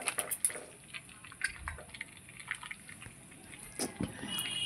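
Food being stirred well in a pot of about 2.5 kg of meat, with wet, sloshing scrapes and small clinks up close, fairly faint and irregular against a steady background hiss.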